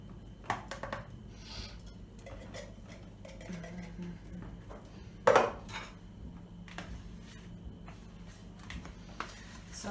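Cornmeal polenta being mixed with coconut milk in a pot for Jamaican porridge, quiet scraping and occasional clinks of a utensil against the pot, with one sharper knock midway.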